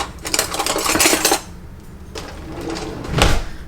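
A big spoon scrapes and clanks against a pot while tossing seasoned stew beef with white pepper, a Caribbean-style stew; two bursts of metallic stirring separated by a quieter pause, close and fairly loud, no talk.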